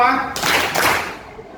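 A group of schoolchildren clapping in a counted pattern during a classroom session, a few quick, close hand claps in a short burst with a voice calling just before.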